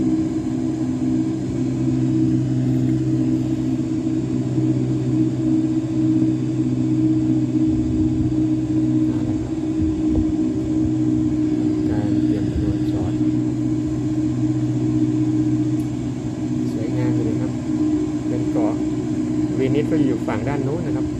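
A small airplane lands on a beach near Venice, Italy, its engine a loud, steady droning rumble that holds throughout, with a person talking over it.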